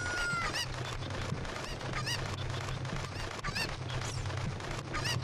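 Cuccos, the chickens of Zelda: Ocarina of Time, squawking and honking repeatedly in rapid bursts over steady game background sound, loud and close, with no talk.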